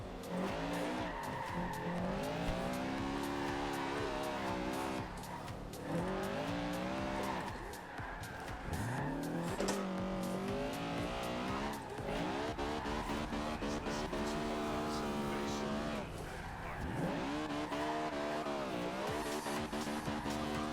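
Honda Civic Type R converted from front- to rear-wheel drive, drifting in Forza Horizon 2: a loud engine revs up and down in repeated sweeps while tires squeal and skid through the corners, continuous for the whole stretch.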